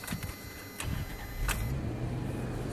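A car engine, recently repaired for a vacuum leak, settles into a steady low idle after a few sharp clicks and knocks, running fairly smoothly at close range with no talking.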